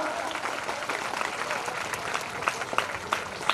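A crowd claps loudly and continuously at a stage event during a Jai Hanuman temple fair in Padanur, with dense applause and a few sharper claps standing out near the end.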